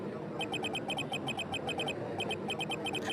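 A low, steady murmuring crowd from the video game Phoenix Wright: Ace Attorney – Justice For All drones beneath bursts of rapid high-pitched electronic blips, like game text chirps.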